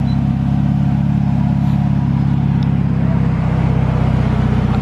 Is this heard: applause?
no